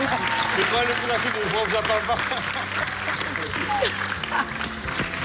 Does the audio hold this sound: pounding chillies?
no